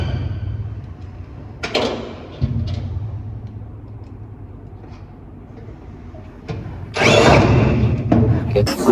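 Bolts are fastened while a two-door wardrobe is assembled, with short bursts of a power driver whirring at intervals between quieter handling noises and a louder, longer run near the end.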